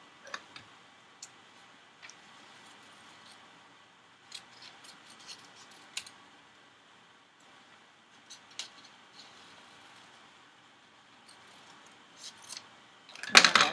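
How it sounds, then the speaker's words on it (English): Scissors snip out green paper leaves in sparse, faint clicks spaced across a quiet room, ending with a louder rustle of paper being handled close by. "And then I'll cut those leaves out."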